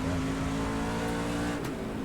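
A Gander RV series racing truck engine at North Wilkesboro roars loud and close with a steady high-revving drone, briefly shifting pitch near the end.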